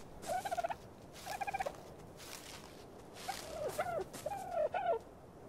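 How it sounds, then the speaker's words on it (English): A dodo in the video game Ark Survival Evolved gives a series of rapid, pulsing, gobbling clucks in several short bursts, close and fairly clear, with no talking. "And I see this little bird."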